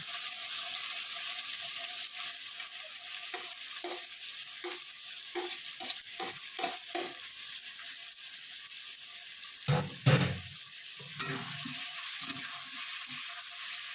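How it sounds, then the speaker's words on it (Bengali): Boiled small prawns fry in a spice mix in a pan, with quiet sizzling and a series of short stirring scrapes, growing louder near the end. "ছোটটা দিয়ে একটু ভালো করে আমি এটাকে ভাজা ভাজা করে করবো"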